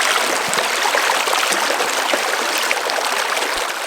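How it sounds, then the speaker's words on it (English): A small creek runs with a constant bright rushing and trickling of water, close and loud, a dense unbroken wash with no talking. "Today we're out on a little creek"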